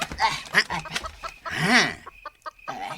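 A neighbour's chicken clucks in a short, uneven run of calls, fairly close and fairly loud, with brief pauses between bursts.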